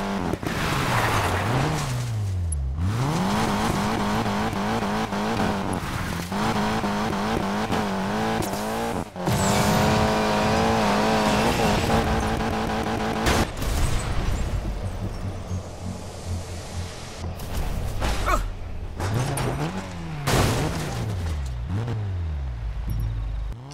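Off-road car in Need for Speed Payback revving hard and driving off an elevated edge to smash a billboard, loud continuous engine roar with rising and falling pitch sweeps, tire noise and impact crashes, alone without talk.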